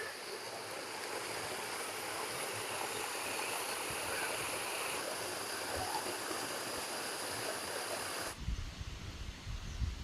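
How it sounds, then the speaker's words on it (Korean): Cheongnyang waterfall on Cheongnyangsan mountain in Korea, pouring down into a valley stream: a steady, dense rushing roar heard from nearby. It holds level for about eight seconds, then the texture abruptly shifts to a rougher, lower rumble. "아래쪽으로 청량 폭포의 수려한 경관이 펼쳐지고 있습니다."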